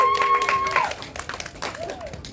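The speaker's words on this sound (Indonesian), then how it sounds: "Beri tepuk tangan untuk Mas Jero Point, sang sutradara." Applause breaks out from the audience at a film press conference to greet the director, scattered clapping over a tonal musical sting, with voices mixed in.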